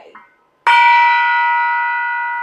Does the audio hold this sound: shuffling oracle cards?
no